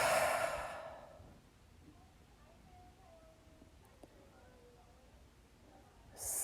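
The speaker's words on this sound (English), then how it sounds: "taking in 2 deep, full breaths" During a guided yoga flow, a deep, full breath is released as a long, audible exhale. Quiet stillness follows, then the next inhale begins at the end.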